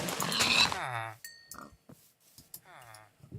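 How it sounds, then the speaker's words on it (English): Pigs oink in the video game Minecraft, a couple of short nasal grunts separated by quiet gaps and soft game clicks, close and clear with no talking. "I'm just going to get these pigs here."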